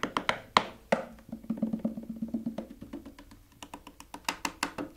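Hands strike the body of an accordion in quick, light taps and knocks, a close rhythmic patter of sharp hits with a brief low resonance ringing under some of them.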